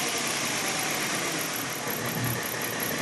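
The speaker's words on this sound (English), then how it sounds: "Now I'm going to go to wide open throttle. Back to idle." A car engine settling back to idle after a wide open throttle run, a steady, loud, close rumble with a broad hiss of noise and no clear rise or fall over the few seconds.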